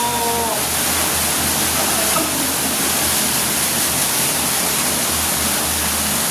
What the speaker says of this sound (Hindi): आडा बोर खोलने से पानी एक साथ कुएं के अंदर किस प्रकार से भरता हुआ आपको यहाँ पे नजर आ रहा है